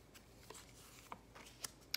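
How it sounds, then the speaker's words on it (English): Tarot cards handled and split by hand, giving a few soft, brief riffling flicks and taps spread across a quiet moment, close and faint with no talking. "These decks have already been shuffled. I'm just moving them around in my hands."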